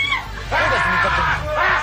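A woman fan on a Japanese game show shrieks loudly in two high, strained bursts over crowd noise and a voice.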